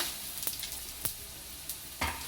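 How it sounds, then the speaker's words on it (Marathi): Coriander and other spices dry-roasting in a pan for mutton curry, giving a soft, steady hiss broken by a few sharp scrapes and taps of the spoon. "सगळा मसाला छान परतून घेऊया"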